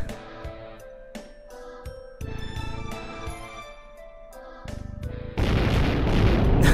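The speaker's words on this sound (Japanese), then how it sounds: "爆発します。" A base self-destructing in the video game Tales of Symphonia, with game music and effects building to a loud, dense blast that fills the last second and a half.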